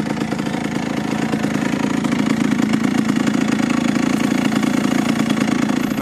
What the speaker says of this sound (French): La moto, enfin la roue arrière tourne dans le vide.